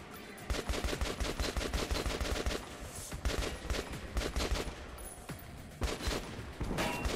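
Dense, rapid game gunfire from Metro Redux 2033, continuous bursts of shots cracking one after another with brief pauses, loud and close throughout.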